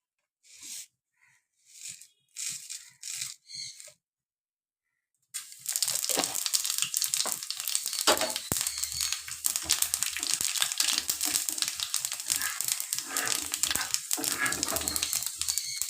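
A spoonful of panch phoron spices hits hot oil in a pan while cooking aloo dum with sesame, a few short clicks giving way to a loud, continuous crackling sizzle that holds steady throughout.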